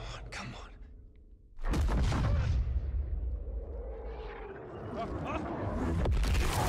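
Explosion during a Fortnite live event, a sudden heavy booming blast after a brief pause, followed by a long rumbling roar that swells again toward the end, with a voice speaking over parts of it.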